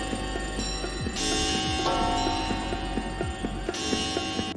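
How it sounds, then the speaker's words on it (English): Many antique clocks in an antique shop tick in overlapping rhythms while bright alarm bells burst in and ring loudly, then cut off and start again. "The song opened with an assault of clocks ticking and alarms exploding."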